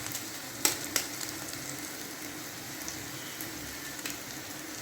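An egg sizzles in a frying pan, a continuous close crackle broken by a few sharp pops and spits.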